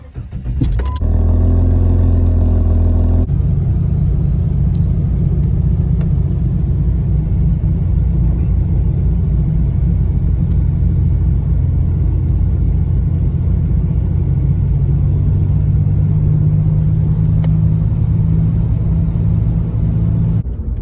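A Jeep WJ engine, freshly fitted with a new battery, plugs and filter, cranks and catches, then settles into a loud, steady close-up idle rumble that holds throughout.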